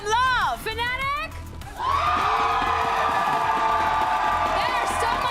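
Esports watch-party crowd at a Valorant match cheering and shouting for Gentlemates, a loud sustained roar of many voices after an announcer's brief call, with whoops rising over the din.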